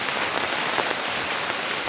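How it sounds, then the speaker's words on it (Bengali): Rain falls outdoors as a dense, loud, steady patter and hiss on surfaces, close and continuous with no pauses and no voices. "না বৃষ্টি থেমে গেছে, মোটামুটি পড়ছে, এখনও থামেনি"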